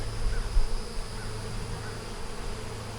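Honeybees buzz around an open hive in a steady, close drone with no voices.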